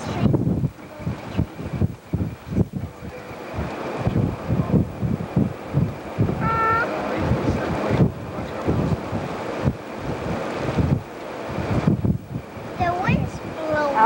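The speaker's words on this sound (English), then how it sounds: "The wind's blowing." Strong wind gusts during a tornado at Guide Rock, Nebraska, roar and buffet a nearby microphone steadily throughout, with people talking faintly underneath.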